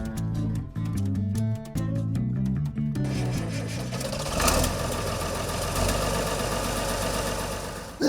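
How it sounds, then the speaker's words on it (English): Engine of a restored 1960s Farmall 1256 Turbo tractor in Missouri, running steadily with a loud, continuous mechanical drone that holds for the whole stretch. "check out a beautifully restored Farmall 1256 Turbo"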